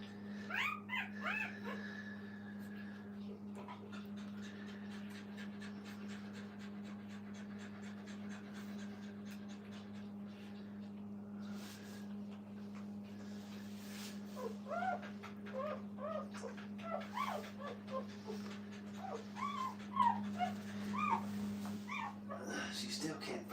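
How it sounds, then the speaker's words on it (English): Five-day-old puppies whimpering and squeaking in scattered high cries, with soft panting, over a steady low hum and a faint voice in a kennel. "She's fussing up a storm."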